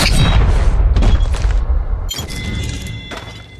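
Dense, loud explosive booms and crashing impacts in a mobile battle royale shooter game, Apex Legends Mobile, forming a continuous roar with sharp bursts and no talking.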